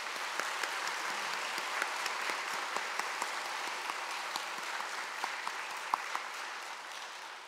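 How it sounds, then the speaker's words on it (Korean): A Sunday church congregation gives a long, even round of applause to thank a visiting pastor, the dense clapping holding steady throughout with occasional sharper individual claps standing out. "우리 큰 박수로 한번 격려해 주시겠습니다"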